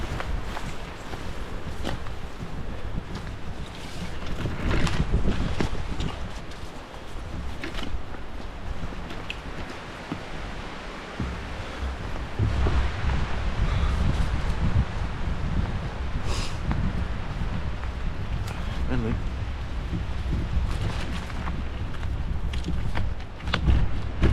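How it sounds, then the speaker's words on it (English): Strong wind gusts buffet the microphone outdoors at Pass Lake, Ontario, a continuous rumbling roar with rustling and footsteps beneath it. "That wind is bad."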